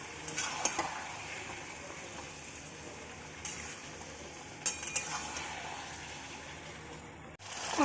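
Capsicum chicken being sautéed with turmeric and Kashmiri chilli powder in a pan, a steady sizzle with scraping spatula strokes and occasional clattering stirs, close and continuous, no talking.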